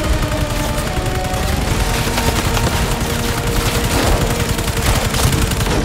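Loud, relentless bursts of rapid gunfire in the video game Marvel's Spider-Man 2 rattle continuously, thick and close, with booming impacts mixed into the steady barrage.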